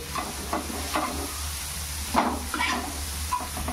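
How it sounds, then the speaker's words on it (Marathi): Capsicum fries with tomato in a pan for masala pav, a soft continuous sizzle broken by repeated scraping stirs of a spoon, close and moderately loud with no talking. "त्याच्यात आता शिमला मिरची टाकू आणि याला आता आपण व्यवस्थित"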